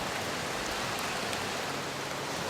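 Heavy rain pours steadily beside a flooded river at a creek crossing on a backpacking trail, a dense, even wash of noise with no pauses and no voices.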